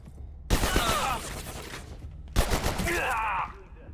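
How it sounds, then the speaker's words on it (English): Two loud, close shotgun blasts in the game Abiotic Factor, each a sharp boom with a ringing, decaying tail, spaced about two seconds apart. "Shotgun."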